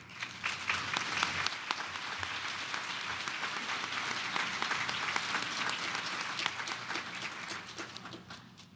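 Sustained applause from a conference audience at a mental health summit, welcoming a speaker to the stage; steady dense clapping fills the room throughout before tapering slightly at the end.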